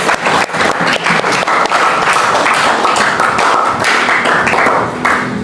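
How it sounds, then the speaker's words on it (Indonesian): A group claps steadily for children at a school gathering, a dense continuous patter of many hands that stays loud and even throughout, with faint voices mixed in. "Tepuk tangan dulu untuk anak-anak"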